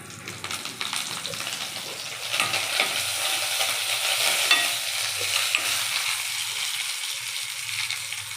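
Garlic and curry leaves fry in a pan while making tomato bhindi at home, a steady hissing sizzle with frequent scraping and clinking as they are stirred, close and loud without talk.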